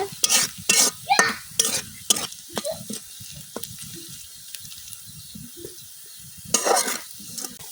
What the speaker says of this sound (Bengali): পেঁয়াজটা আমার লাল লাল ভাজা হইতেছে